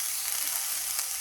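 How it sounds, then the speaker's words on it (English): Two halved white onions char and sizzle in a hot pan as a steady, dense frying hiss that fills the short stretch without pause, with no voices over it. "So 2 white onions cut in half, and we're literally just charring"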